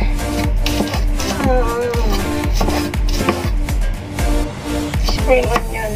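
Repeated knife strokes chop spring onion on a board as a final topping for simple fried rice, a steady run of crisp knocks close by with kitchen noise and some talk between cuts.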